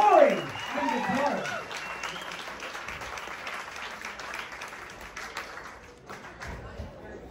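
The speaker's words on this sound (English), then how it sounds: "They deserve another round of applause." An audience at a blues festival breaks into sustained applause right after a brief voice, the clapping steady and full before gradually thinning out.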